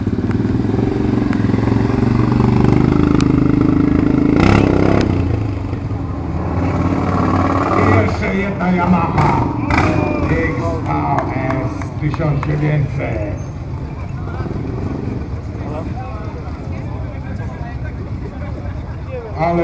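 An unsilenced motorcycle, its exhaust ending at a bare pipe, runs loudly close by at a season-opening bike event, rumbling and revving with sharp mechanical clatter while someone talks over it.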